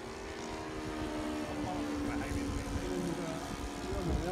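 Radio-controlled WWII model airplanes, four flying at once, give off a continuous buzzing engine drone that swells slightly as they pass overhead, with people talking nearby.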